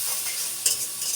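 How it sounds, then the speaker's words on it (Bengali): Spice paste of chilli powder, coriander powder and salt with a splash of water sizzles in a pan while being stirred, a steady close frying hiss with a brief scrape of the spoon partway through. "মশলাটি কষিয়ে নিই।"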